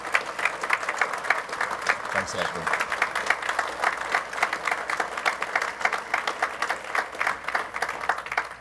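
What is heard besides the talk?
audience applause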